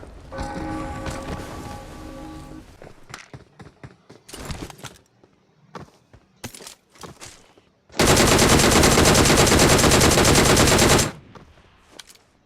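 Automatic gunfire rattles in the PUBG Mobile battle game: scattered single and short bursts of shots, then one loud sustained spray of fire lasting about three seconds, with a tonal in-game sound at the start.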